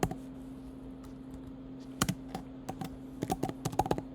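Close computer keyboard typing with scattered single key taps, then quicker clusters of clacks toward the end, over a faint steady hum.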